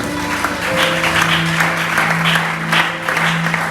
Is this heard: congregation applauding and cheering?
yes